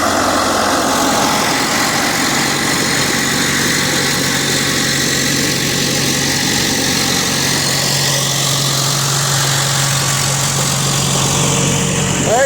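An old John Deere machine's diesel engine idles and runs steadily on a timber-harvest skid road, a continuous loud low rumble with mechanical vibration throughout and no talk.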